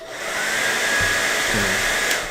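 A hair dryer blows steadily to dry off a piece during a mini workshop demonstration, giving a loud, even whooshing whine held close for a couple of seconds with faint low thumps underneath.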